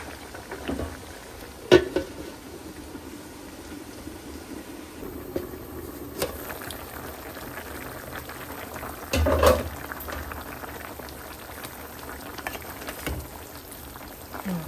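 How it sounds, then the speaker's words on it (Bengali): A shrimp and mixed vegetable curry simmers under a lid, giving a soft, continuous bubbling murmur broken by occasional louder pops and faint clinks. "এখনো ভালো মতো সিদ্ধ হয়নি, আর একটু ঢেকে রাখি"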